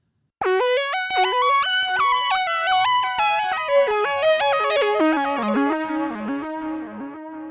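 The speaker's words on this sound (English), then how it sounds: "Here's the analog delay." A bright analog synthesizer melody with stepping notes through an analog delay effect, each trailed by repeating echoes that smear together into a slightly distorted, modulated wash before fading.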